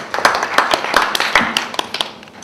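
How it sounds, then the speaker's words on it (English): A small audience at a quiz night in Pontefract gives a short round of applause, with loose, uneven claps close by that taper off after a couple of seconds. "A little round of applause for that one, I think."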